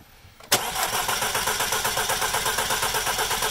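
An Audi engine cranks over during a compression test. After a brief quiet moment it kicks in abruptly with a loud, steady, rhythmic churning that continues to the end.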